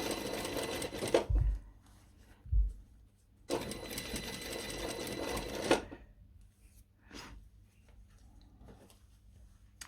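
Sewing machine topstitching a seam at 1 mm on a garment, heard in two loud close runs of rapid whirring stitches separated by quiet handling, with a brief fainter burst afterward.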